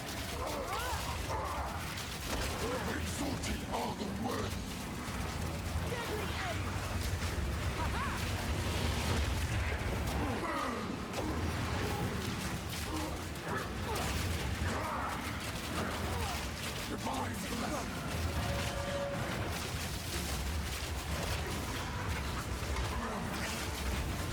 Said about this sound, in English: That gas explosion is still really cool.